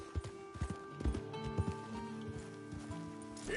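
A horse's hooves clip-clop in an uneven rhythm, close and fairly soft, over a steady background tone in a western-themed game.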